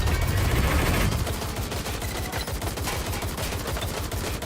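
Gunfire in the video game Watch Dogs Legion crackles as dense, rapid automatic bursts, loud and continuous, heaviest in the first second and then a steady rattling stream.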